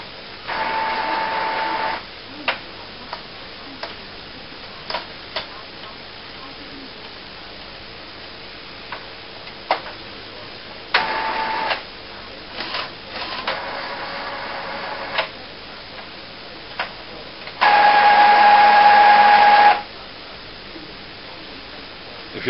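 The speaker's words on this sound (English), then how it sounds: "all this noise is normal. As you can see, it is now recognised the cartridges and it's just starting to charge them up" An Epson SX-series inkjet printer primes CISS ink cartridges with scattered mechanical ticks and clicks, short whirring bursts and a louder two-second buzzing whine, all heard up close in an otherwise quiet room.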